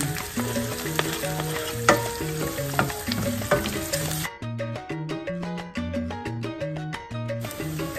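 Garlic sautéing in a pan, a loud close sizzle and crackle of frying with stirring and scraping throughout.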